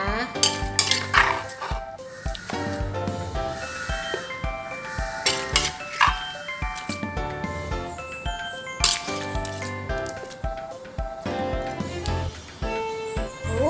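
Thai papaya salad with squid is scooped onto a plate, with clinks and scrapes of a utensil against dishes over steady background music while someone talks.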